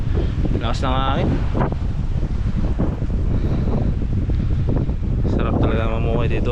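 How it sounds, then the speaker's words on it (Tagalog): Strong wind gusts outdoors beside a provincial resort, buffeting the microphone with a loud, steady roar throughout, while voices talk briefly near the start and again near the end. "Lakas ng hangin, oh."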